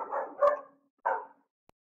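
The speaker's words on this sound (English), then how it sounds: "it's my dog." A pet dog barks indoors nearby, two or three short, sharp barks in quick succession followed by a pause, loud and otherwise alone.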